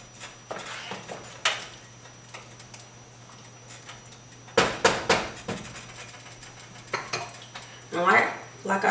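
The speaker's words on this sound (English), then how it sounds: "Every once in a while, give it a nice stir." A spoon scrapes and clinks against a pot of homemade lentil soup being stirred, giving scattered close knocks and clatters with quiet gaps between them.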